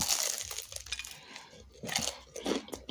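Close, crisp crackling crunches from bites into crispy fried chicken, several sharp bursts separated by short pauses, with no talking.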